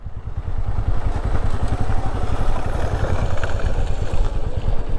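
A Royal Enfield Meteor 350 (Supernova) motorcycle rides downhill off-road in first gear, its single-cylinder engine thumping in a steady, rapid low pulse with loud, continuous rumble and some clatter.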